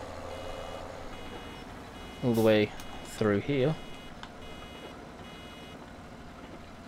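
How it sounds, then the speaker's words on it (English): A baler in the Farming Simulator 17 video game sounds loud, evenly pitched warning beeps: one long tone, then two shorter ones, over a low machinery drone, with someone talking briefly. "Lift that up and listen to the beep"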